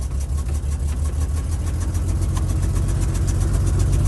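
Rumbling, pulsing engine of an American WWII half-track running up close, a heavy low throb that steadily builds in loudness as it revs; no talking.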